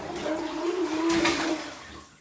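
A child blows bubbles into bath water, a soft gurgling burble that lasts about two seconds, close and fairly quiet.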